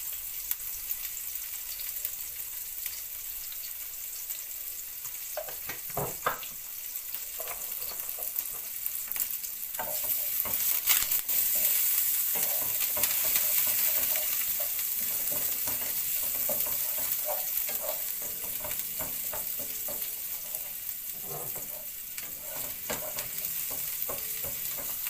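Brown stew fish with onion and flake pepper frying in a pot, a continuous crackling sizzle with intermittent spoon scrapes and clinks as it is stirred, steady and moderately close.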